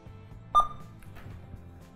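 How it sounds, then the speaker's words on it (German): A marine VHF DSC radio gives a single short, clear electronic beep as it powers back on, close and isolated against quiet background hum. "Ich schalte das Funkgerät aus."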